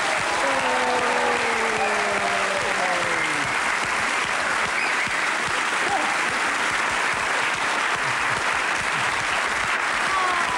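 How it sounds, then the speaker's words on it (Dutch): A studio audience on the Dutch TV show Kopspijkers gives the staff a long, loud burst of continuous clapping, with a few voices rising over it early on. "En applaus voor al die medewerkers"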